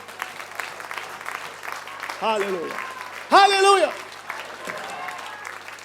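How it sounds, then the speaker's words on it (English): Congregation clapping steadily at a church service, a dense patter running throughout while voices ring out in loud shouted praise over it. "Give the Lord a clap of faith."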